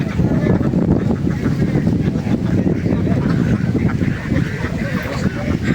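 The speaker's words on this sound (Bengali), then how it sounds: "অনেক হাঁস।" A large flock of ducks at a farm beside a wetland honk and quack continuously in a dense, close chorus, with wind buffeting the microphone.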